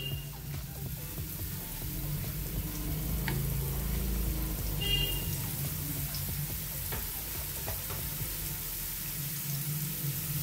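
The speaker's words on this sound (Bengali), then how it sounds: "এটাকে আমি সাদা তেল দিয়ে ফ্রাই করব।" Bottle gourd pieces fry in white oil on a hot tawa with a soft, steady sizzle and occasional light pops and clinks. The sound is fairly faint and close, with no talking.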